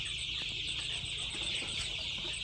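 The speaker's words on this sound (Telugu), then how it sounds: "ఇవి నాటుకోళ్ళు ఒరిజినల్ నాటుకోడి కన్నా రెండింతలు కోడిగుడ్లు అయితే అదనంగా పెడతాయని" Native crossbreed chickens cluck in short, scattered calls close by over a steady background hiss, with no talking.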